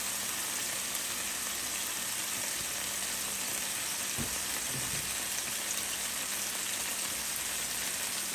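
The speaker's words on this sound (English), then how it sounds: "you can see that the fish is sizzling" Basa fish fillets sizzling in oil in a frying pan, a steady, even crackling hiss that runs the whole time at moderate level with no talking.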